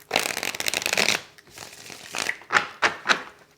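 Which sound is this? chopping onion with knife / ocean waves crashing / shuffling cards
shuffling cards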